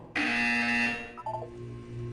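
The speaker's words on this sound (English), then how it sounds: "You will hear a buzzer. When you hear the buzzer, look up at the ceiling." An electronic buzzer from the Portal 2 video game sounds once, a loud steady tone lasting about a second, then fades into quieter tonal game ambience.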